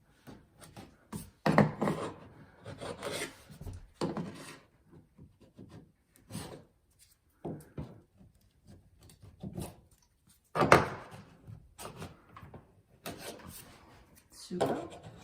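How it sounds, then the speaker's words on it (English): A chisel scrapes and cuts excess wood filler off a wooden stair repair, giving a series of short, quiet rasping strokes separated by pauses, close by and with no talk. "So now I'm going to use the cutting tool, and I'm going to place it on the stair and just cut it off very easy"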